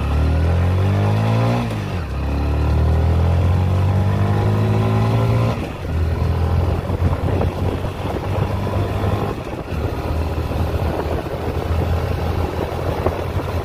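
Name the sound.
TVS Sport motorcycle accelerating during pickup test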